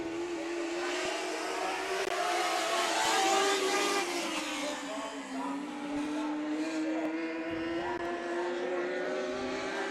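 Racing boats roar at the 2018 Budweiser Nationals night heats, a loud sustained engine drone with shifting pitch as the hulls run, with excited commentary voices over it throughout.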